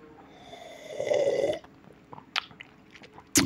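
Coffee sipped close to a cheap clip-on microphone, with a long slurping draw followed by a few small gulps and mouth clicks, faint and close with no talking.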